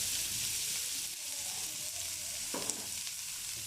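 Cumin seeds and onions fry in hot oil for a curd-based dish, making a steady, close sizzle with light stirring, alone without speech.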